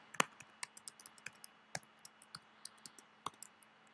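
Password typed on a computer keyboard, sparse separate key clicks, close and fairly quiet, with irregular gaps between strokes and a faint steady hum beneath.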